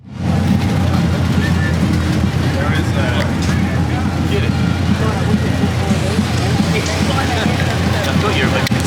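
An off-road race truck, rough-running, at the NORRA 1000 finish line, roars loudly and steadily throughout, a dense engine and exhaust drone with voices of onlookers buried in the noise.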